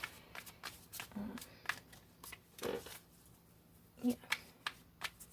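Tarot cards being shuffled by hand, a quiet series of riffling and snapping bursts up close, with a brief murmured word.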